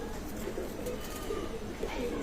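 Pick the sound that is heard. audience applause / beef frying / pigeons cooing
pigeons cooing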